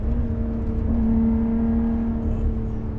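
A Lotus Evora 400 engine holds a steady, loud droning tone from close by as it accelerates, with no talk over it.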